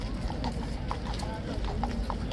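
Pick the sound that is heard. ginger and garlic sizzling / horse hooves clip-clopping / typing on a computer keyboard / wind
horse hooves clip-clopping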